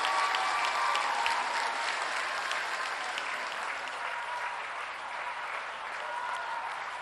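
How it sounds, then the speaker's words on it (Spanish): Crowd applause at an outdoor public event in Palizada, Campeche, a steady, dense wash of clapping from many hands that holds for several seconds, slowly easing without any speech. "hay que mandarle un aplauso de aquí a Palenque al presidente López Obrador"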